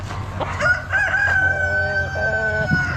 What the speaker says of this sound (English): Some roosters.